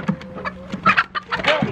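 A hen clucks and squawks in short agitated bursts while being weighed on a backyard flock scale, close and fairly loud with no talk over it.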